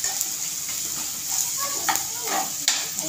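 Onion and tomato sizzle in a pan for egg bhurji, a steady frying hiss with scattered sharper crackles and scraping stirs, fairly close.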